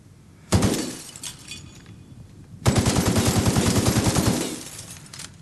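Gunfire strikes unbreakable glass in the video game The Outer Worlds. A single loud crack is followed by a sustained rapid burst of automatic shots, each hit ringing with a glassy, shattering edge, close and loud.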